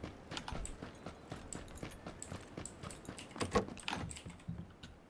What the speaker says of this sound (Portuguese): eu tô ouvindo o teclado de alguém, pensei que era passo